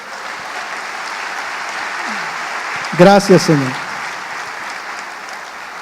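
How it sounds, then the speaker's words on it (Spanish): Church congregation applauding during a Spanish-language sermon, a steady broad wash of clapping throughout, with someone briefly speaking over it midway. "¿Puede darle un aplauso al Señor por eso?"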